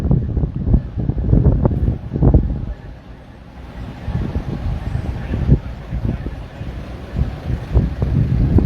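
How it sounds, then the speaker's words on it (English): Gusty wind buffets an outdoor microphone at La Junta, with loud low rumbling bursts that ease briefly midway before returning in uneven blasts. "That wind."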